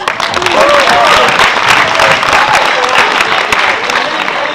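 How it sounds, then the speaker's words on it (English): A studio audience gives a sustained round of applause for a contestant at a 2015 event, dense clapping throughout with a voice speaking over it. "So give her a big round of applause."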